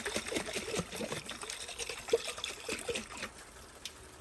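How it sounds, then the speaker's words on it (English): Water is shaken inside a glass tomato sauce jar to rinse it, giving close, irregular sloshing and trickling splashes with small clinks, fading toward the end. "Not all the way full, just about up to the label with some water. Give it a good shake."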